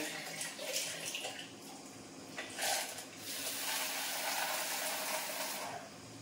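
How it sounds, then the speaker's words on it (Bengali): Water runs and splashes from a tap into bottles being filled at home, a steady hissing flow that rises slightly partway through. "দেখো এই যে বোতলগুলো সব রাখা আছে, জলগুলো সব ভরে নেবো।"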